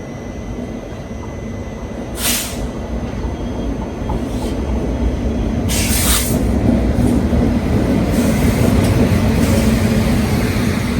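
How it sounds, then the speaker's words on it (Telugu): The Janmabhoomi Express passenger train rolls past at close range, a loud continuous rumble and rattle of wheels that builds and holds, with brief bright squeals and clatters, and no talking. "అదే జన్మభూమి ఎక్స్ప్రెస్."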